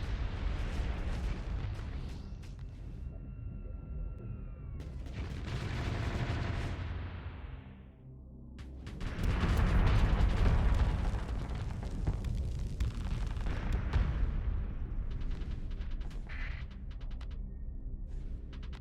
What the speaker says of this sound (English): It's a very, very long range weapon.